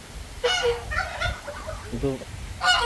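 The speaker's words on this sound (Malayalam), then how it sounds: "വാത്തടി വാത്ത" Loud geese honking in several harsh bursts, close by, with a short spoken remark in between.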